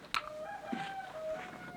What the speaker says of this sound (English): Quiet, chicken.